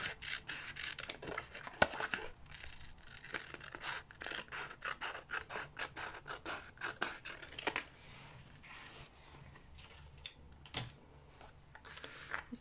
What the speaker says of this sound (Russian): Ну, допустим, где-то вот так отрежем.